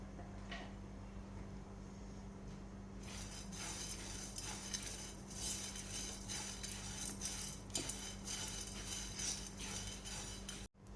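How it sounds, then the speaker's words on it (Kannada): Mustard and cumin seeds frying in hot oil in a pan, a low sizzle that turns into a dense, crackling fry with scattered pops and light clinks of a spoon against metal. "ಸಾಸಿವೆ ಹಾಕ್ಕೊಳ್ತಾ ಇದ್ದೀನಿ. ಹಾಗೂ ಸ್ವಲ್ಪ ಜೀರಿಗೆಯನ್ನು ಹಾಕ್ಕೊಳ್ತಾ ಇದ್ದೀನಿ."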